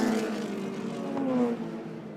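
A historic race car at a historic motor racing festival crosses the finish line, its engine a steady, loud drone with a slight swell in the middle before easing off as it passes.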